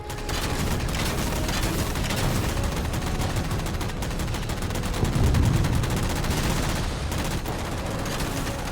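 Gunfire in Halo 4 as jammers are shot down, a dense continuous stream of shots with a heavier burst midway, loud and steady throughout with no talking.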